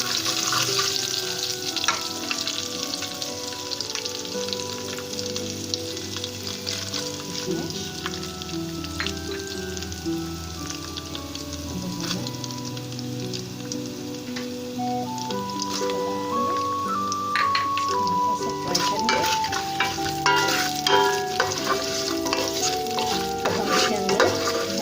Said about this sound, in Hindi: इलायची पाउडर हम डाल देंगे, सौंफ, थोड़ा सा फ्राई करेंगे।